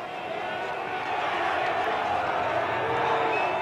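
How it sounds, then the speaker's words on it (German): Dense crowd of thousands of demonstrators in Berlin outside Schöneberg town hall, shouting their anger at the Shah, forms a continuous, loud wash of massed voices and cries that swells slightly midway and never lets up. "Tausende von Demonstranten, die dem Schah ihre Wut ins Gesicht brüllen wollen"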